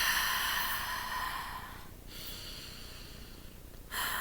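Slow deep breaths drawn in and let out during a calm breathing exercise, a long airy exhale fading into a pause before the next breath begins, close and alone with no talking.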